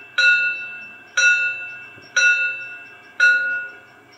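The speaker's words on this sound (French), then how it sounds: "Notre bonne vieille cloche." A small bell sound effect from a PIKO 141TA SNCF model locomotive rings four times at an even pace of about one strike per second. Each bright, clear tone fades before the next.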